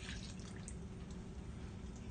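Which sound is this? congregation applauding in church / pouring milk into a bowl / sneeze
pouring milk into a bowl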